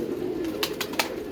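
Pigeons coo in a short, low, steady call, close and clear, with a couple of faint clicks over it.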